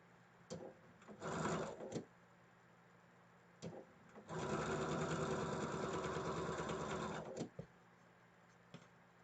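Sewing machine chain-piecing quilt block rows, running in short bursts and then one long steady run of whirring stitches, with small clicks and handling noises between the runs, close and alone.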